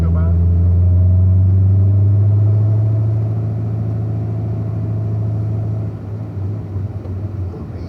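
Cars and bikes pass along a street, a loud, low engine rumble near at first that gradually eases and fades, with steady traffic noise throughout.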